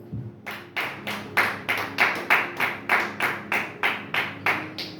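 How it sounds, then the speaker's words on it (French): A church congregation claps in steady rhythm to acclaim the Lord, about fifteen even beats close to the listener with no speech during the clapping. "On acclame le Seigneur pour sa parole."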